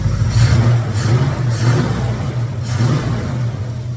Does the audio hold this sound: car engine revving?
yes